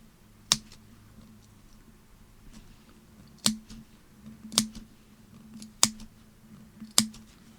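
Scissors snip the curved fabric edge of a doll shirt in five sharp, quiet clicks, one alone and then four spaced about a second apart, close up in a quiet room.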